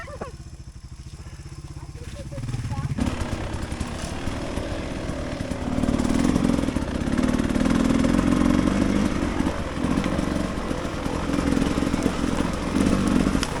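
Off-road dirt bike engine running on a muddy OHV singletrack trail, a quiet start that jumps to a loud, steady close-up engine drone with rising revs and clatter.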